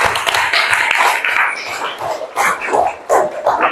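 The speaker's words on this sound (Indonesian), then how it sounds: "Tepuk tangan untuk kelas 4 ini" A fourth-grade class of children claps together in a classroom, a dense, busy patter of hands that keeps going steadily for several seconds with small surges and dips.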